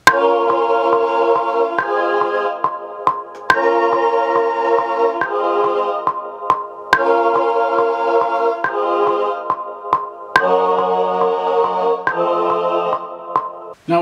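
Beat with layered chords that include added extra notes, a sustained synth progression changing chord roughly every two seconds over a sparse percussive tick, with no talking.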